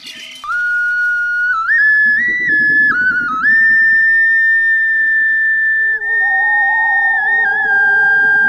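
A clear, sustained flute melody with bending held notes, playing alone and steadily loud, with a soft lower accompaniment joining partway through.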